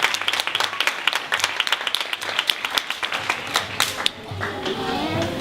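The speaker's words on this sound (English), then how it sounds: "Let's give them a nice round of applause." An audience in a church applauds in a dense burst of overlapping claps, with voices talking and calling out over the clapping.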